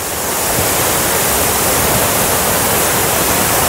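Up close at Gundichaghagi waterfall, falling water makes a loud, steady roar of dense broadband rushing noise, unbroken and with no voices.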